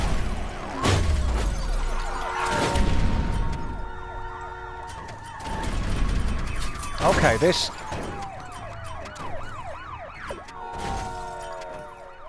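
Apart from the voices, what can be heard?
police car siren in the video game Danger Zone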